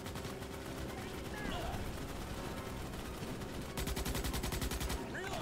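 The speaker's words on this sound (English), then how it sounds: "There's a gunner somewhere shooting me." Enemy gunner fire in Starship Troopers: Extermination during a base attack, a fast rattling burst late in the clip over dense battle noise, with a voice talking underneath.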